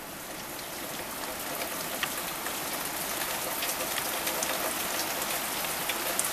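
Heavy rain pours steadily onto floodwater, a dense even hiss with scattered drop patters, close and continuous with no voices.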